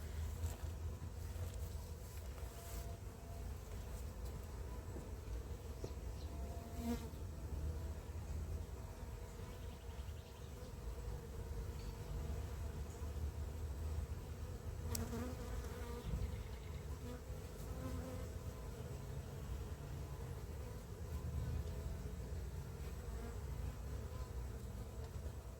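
Honey bees buzz around an open beehive during an inspection, a dense, continuous hum of many insects close by with occasional faint handling knocks and no talk.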